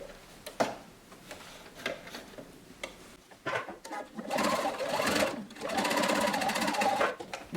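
A sewing machine stitches through thick blanket fabric while making a padded cozy bag: quiet ticks and taps at first, then two loud, steady runs of whirring stitching.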